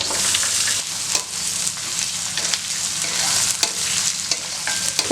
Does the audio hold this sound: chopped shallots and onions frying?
yes